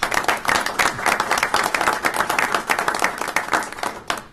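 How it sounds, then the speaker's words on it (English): A crowd claps steadily in sustained applause, dense and lively, with no break. "we give our veterans a round of applause and thanks for this"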